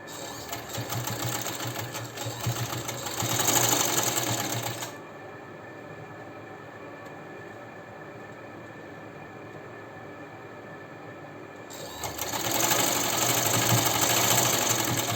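A sewing machine stitches a folded sleeve in a rapid, rattling run, pauses for several seconds of quiet, then starts again at the same close, steady pace.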